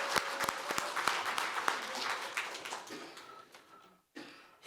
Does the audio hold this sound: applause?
yes